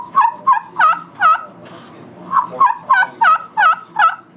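A mouth or box turkey call imitating a young gobbler's yelp: two runs of about four to five slow, deep, raspy yelps with a short pause between, close and loud, with no talking.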